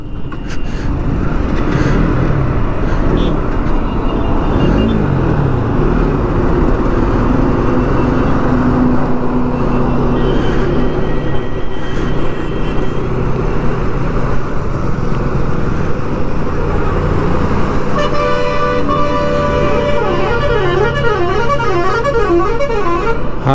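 Heavy traffic on a national highway roars close by, with engine rumble throughout and repeated car and bus horns, ending in a long run of rapid, warbling musical horn blasts.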